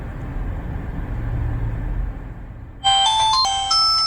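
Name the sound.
smartwatch phone ringing during call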